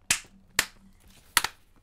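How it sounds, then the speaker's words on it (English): Someone claps their own hands together as a mock high five, three sharp isolated claps spread across two seconds, close and fairly loud, with no talking. "I just high-fived you by clapping my own hand"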